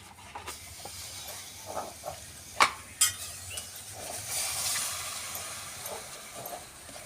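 A steady hiss of grated red pumpkin frying in a hot pan, with a few sharp clinks and scraping stirs, close and fairly quiet.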